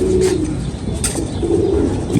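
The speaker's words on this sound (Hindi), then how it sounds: "ये वो कबूतर है जी" Soft, low cooing from a competition flying pigeon repeats in short phrases against a steady outdoor hum, with no talking.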